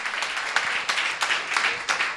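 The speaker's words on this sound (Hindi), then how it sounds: "इनके सम्मान में जोरदार ताली बजाकर इनका सम्मान करें" An audience at a Jain religious gathering gives strong applause in honour of guests, many hands clapping in a dense, continuous roar with occasional sharper peaks.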